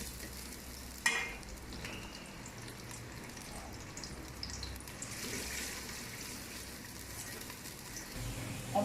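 Onions frying in oil in a pot for a chana beef pulao, giving a steady, moderately quiet sizzle with occasional stirring and a brief clatter near the start.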